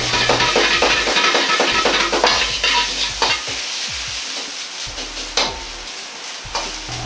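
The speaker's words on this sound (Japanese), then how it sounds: "黄身の旨味をご飯に付くようにして炒めていきます。" Rice and cooked egg yolk are stir-fried in a wok for Sichuan-style spicy fried rice, with a steady sizzle under quick rhythmic scrapes and clanks of a metal spatula, close and loud.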